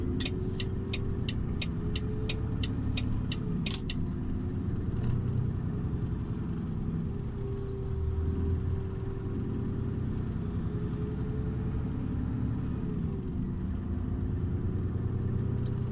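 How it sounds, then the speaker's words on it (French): A truck engine runs with a steady, heavy low rumble heard from inside the cab, a quick series of beeping tones at the start and a constant drone with slight swells after that. "le bruit moteur est vraiment différent"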